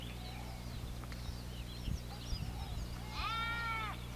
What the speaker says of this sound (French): Là j'entends des moutons ou des chèvres, mais je les vois pas.